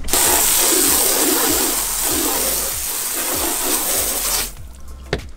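Water hisses loudly as it rinses cleaner off a boat surface, a steady spray that stops abruptly near the end.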